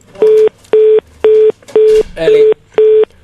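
A loud telephone line tone after a caller has hung up: six evenly spaced electronic beeps pulsing in a steady rhythm, with a brief muffled voice or noise slipping in around the fifth beep.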